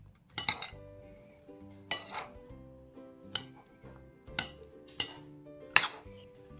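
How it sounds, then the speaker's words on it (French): A composed salad with corn being mixed in a bowl, with six distinct clinking knocks of utensils against the dish at a steady, unhurried pace, close and clear with quiet between strokes. "Je mélange."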